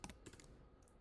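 Quiet typing on a computer keyboard while entering an address in a Chrome browser tab, a few soft, quick key clicks in a short burst, close and faint.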